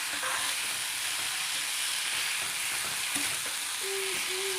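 Diced potatoes, eggs and tomatoes cook together in a pan with a soft, steady sizzle and hiss, a few faint utensil clinks near the end, no voices.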